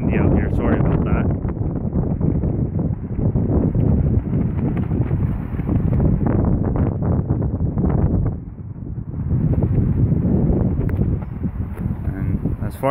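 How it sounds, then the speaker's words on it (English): Steady outdoor wind rushes across the microphone beside two parked Dodge Hellcat cars, a loud continuous roar that eases briefly midway while someone talks over it. "It's pretty windy out here."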